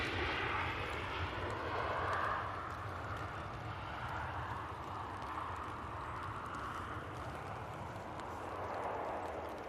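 A passenger airliner touching down and rolling out on the runway at Manchester Airport, heard from a distance as a steady broadband jet roar with a broad whooshing swell, continuous throughout with no voices.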